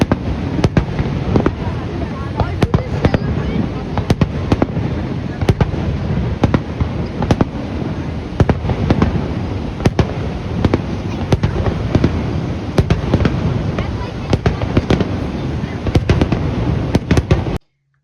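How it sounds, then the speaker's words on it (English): Fourth of July fireworks at Niagara Falls burst in a rapid, irregular string of sharp bangs and crackles for about seventeen seconds. Faint voices sit beneath the explosions. "Let's look at a real-life example of fireworks at Niagara Falls on the 4th of July."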